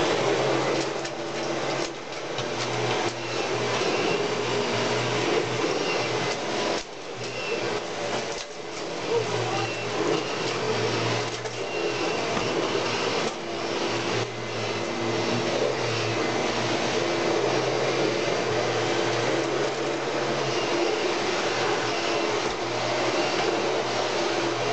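A Kirby G5 and a Dyson DC01 De Stijl vacuum cleaner run together in a head-to-head comparison, producing a loud continuous motor whine and airflow roar with slight pitch shifts and bumps throughout.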